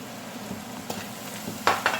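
Masala chicken sizzling in a pan on a switched-off stove as thick honey is added, a low steady fry with a few soft stirring scrapes and two louder clatters near the end.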